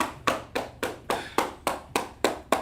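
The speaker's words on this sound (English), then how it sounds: "Let's clap it up for them." Hands clap in a steady, even rhythm, about nine sharp claps close by over a couple of seconds, with no talking.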